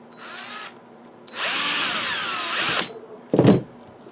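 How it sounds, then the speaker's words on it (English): A power drill bores holes in a model kit's thruster mounts in three whirring bursts: a short one, a longer sustained run, then a brief final spin, each rising and falling in pitch. "we will prep the mounts by pre-drilling these holes"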